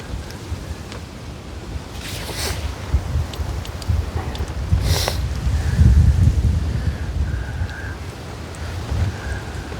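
Strong wind buffets a microphone beside a fishing lake at Patshull Park, making a loud low rumble with gusts and rustling. A few faint clicks and tones sound along the way.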